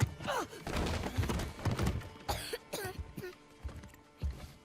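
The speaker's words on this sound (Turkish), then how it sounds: "Niye öksürüyor anlamadım." A character in God of War coughs several times in short, harsh bursts, with scattered thumps and game-like sound effects around it.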